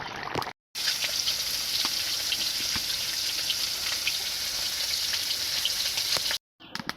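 A fish head sizzles and crackles in hot oil, a steady dense frying hiss with small pops, briefly cut off at the start and end.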